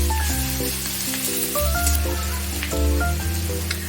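Vegetables sizzle and fry steadily in a pan with a pinch of salt, a continuous soft hiss that sits beneath louder music throughout.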